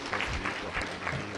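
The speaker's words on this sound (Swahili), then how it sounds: "Naomba tumshukuru kwa makofi kwa huduma hii nzuri" Audience applause at a live Tanzanian state event with the President attending a contract-signing ceremony, a steady wash of clapping from a sizeable crowd, moderately loud and continuous.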